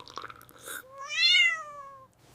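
A cat gives one clear, drawn-out meow that rises and falls, close and fairly loud, after a few brief rustling sounds.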